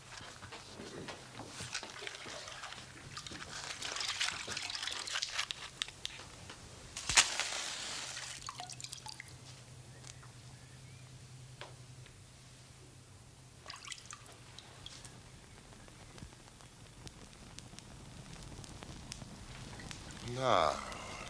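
Water is sprinkled over burning straw indoors, giving soft splashing and trickling with faint crackle in bursts, while voices talk at times.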